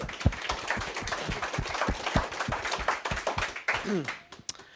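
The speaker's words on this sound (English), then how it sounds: "I think it deserves a clap," Scattered audience clapping at a talk by amateur radio operator Mike G4CDF, a loose burst of individual claps with a muffled voice briefly audible near the end.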